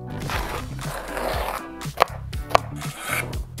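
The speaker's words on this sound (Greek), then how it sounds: "Σε ένα ξύλο κοπής κόβω μια κόκκινη πιπεριά" A knife chops red pepper on a wooden cutting board with close, dull knocks and scraping strokes, a couple of sharper cuts standing out near the end.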